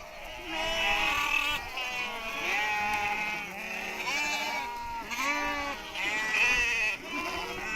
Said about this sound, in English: The goats can smell the water we are carrying in our car, and soon we are surrounded.